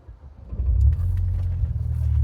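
A 2011 Saab 9-5 Turbo4 with a billet turbo fires up from inside the cabin, a short crank followed by a steady low engine rumble, close and moderately loud with no speech.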